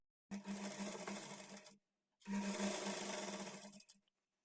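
A sewing machine stitches folded blouse fabric in two quick runs of about a second and a half each, a close steady whir with a short gap between, and no speech.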